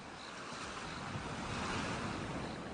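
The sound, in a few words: ocean waves with gulls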